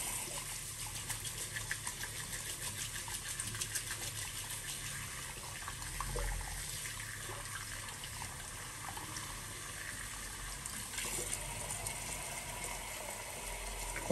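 Tap water runs steadily into a basin to warm up before shaving, a continuous gushing splash at close range, alone and without talk.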